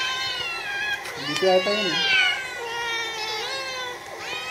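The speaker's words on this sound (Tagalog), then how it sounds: "yan ang mga pusa mo" Several cats meow close by in overlapping, wavering high cries that rise and fall across the whole stretch, mixed with people talking in Filipino.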